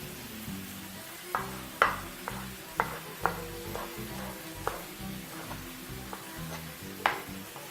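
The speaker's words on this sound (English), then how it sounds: "in goes our tomatoes as well. Right, so just give it a nice quick stir" Chopped tomatoes sizzle in a hot pan while being stirred at high heat, a steady frying hiss broken by irregular clinks and scrapes of the spoon against the pan.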